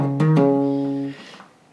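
Two plucked low notes sound in quick succession and sustain before fading out, a bass guitar line from a song played close and solo.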